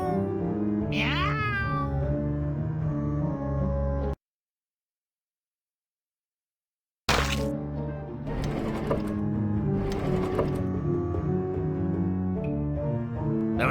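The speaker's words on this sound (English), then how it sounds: "Meow. Meow." A cat meows a few times with rising and falling cries near the start, over a dense, steady mechanical whirring and clatter. A short silence follows, then the busy mechanical bed returns.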